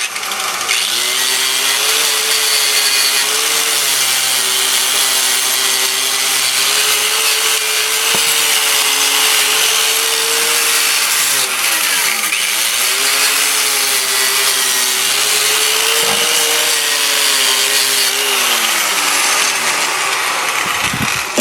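A power tool spins to clean rust off rear caliper bracket fasteners during a brake job on a 2011 Nissan Altima, a loud continuous whirring grind whose pitch dips as load changes, running without pause.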